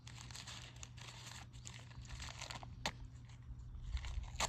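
Dry leaves and paper crumpled and crackling as they are fed onto a small outdoor fire, a steady rustling crinkle with a few sharper snaps, close and fairly quiet.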